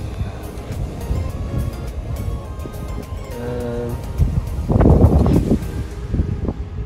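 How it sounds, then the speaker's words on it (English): Wind gusts at a beach buffet the microphone in a continuous low rumble, with surges and a louder gust midway, and faint background sounds mixed in. "It's pretty windy"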